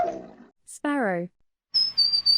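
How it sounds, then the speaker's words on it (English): A sparrow chirps a quick series of bright, high notes near the end, after a brief rising wail and a murmur of other sound; the calls are short, clear and fairly close. "Sparrow."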